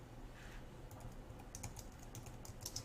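Quiet, rapid keystrokes on a computer keyboard, a soft, irregular patter of clicks close by with no talking.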